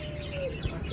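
Chickens in or beside their coop cage cluck softly in a short burst, with a faint thin tone over a steady low background and no talk.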